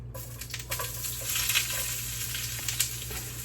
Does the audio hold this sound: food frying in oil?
yes